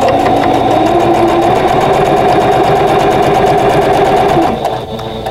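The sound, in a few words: sewing machine stitching two quilt block rows together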